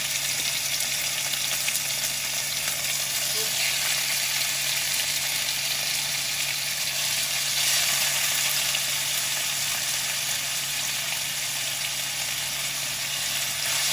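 Stew beef sears in a very hot pot for a Jamaican-style stew, giving a steady, even sizzle and hiss throughout, close and continuous with no talking over it.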